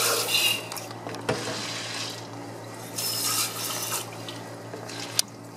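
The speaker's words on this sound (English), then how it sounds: "And then you want to rinse them." Water pours and splashes as soaked seeds are rinsed in a sprouter, a steady running stream with brief louder bursts and small knocks of the container, close by with no talking.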